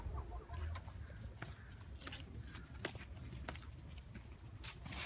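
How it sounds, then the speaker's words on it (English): Chickens cluck softly nearby in a backyard coop, a series of short irregular clucks over quiet outdoor ambience with faint background noise. "say hi to the chickens"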